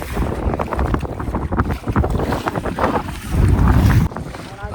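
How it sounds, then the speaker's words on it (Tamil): Wind gusts buffet the microphone during a coracle ride near the Bhavanishagar dam, rough rumbling blasts rising and falling, with someone talking over the noise and water movement underneath. "காற்று இப்படியும் அடிக்குது இப்படியும் அடிக்குது, ரெண்டுமே அடிக்குது"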